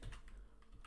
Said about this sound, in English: Let's quickly type that up